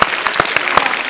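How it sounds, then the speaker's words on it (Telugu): A studio audience claps loudly in quick, uneven bursts, close and alone without talk. "అండ్ గర్ల్స్ ఒకసారి గట్టిగా క్లాప్స్ కొట్టాలి."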